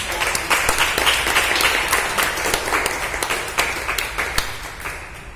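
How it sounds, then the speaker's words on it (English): Audience applause at a Toastmasters club meeting: dense, steady clapping from a roomful of people that holds up for several seconds, close and fairly loud. "give one more round of applause to Toastmaster Pratik"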